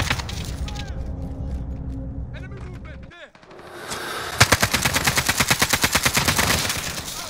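Video game gunfire, with sentry guns in play, cracks in bursts and then settles into a rapid, evenly spaced machine-gun rattle that runs loud and close through the second half, with a little mumbled talk early on.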